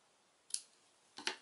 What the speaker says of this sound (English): Then you'll take your scissors and cut it most to where the doily ends